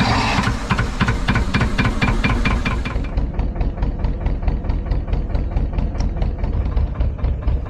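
A narrowboat diesel engine on a frozen canal near the Pontcysyllte Aqueduct cranks with a few loud starter turns, then catches and settles into a steady, rhythmic knocking idle close by, with no talk.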